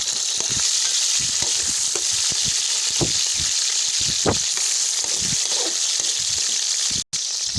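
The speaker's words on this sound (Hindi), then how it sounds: "हमने 1 पाव चिकन इसमें ऐड कर दिए। इसको हल्का हल्का ब्राउन करेंगे।" Chicken sizzles steadily as it browns in a pot for jungli pulao, a continuous hiss broken by scattered clicks and scrapes of stirring, with a brief cutout near the end.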